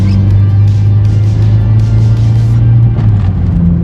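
A Honda CR-Z accelerating through quick gear shifts, heard as a loud, steady low engine drone close by, with small changes in pitch and no voices over it.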